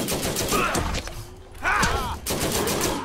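A Scorpio turret firing in a Borderlands game, dense rapid gunfire in bursts with mechanical whirs and ricochet whines, loud and close.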